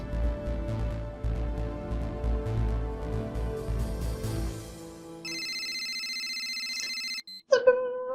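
A mobile phone rings with a steady electronic ringtone, loud and close, for about two seconds after a stretch of background sound, then stops before a short clatter.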